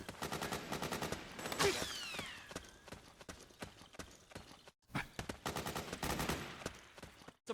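Rapid machine-gun suppressing fire in Metal Gear Solid 4, dense bursts of clattering shots with a short gap midway, mixed with other game effects and a rising whine.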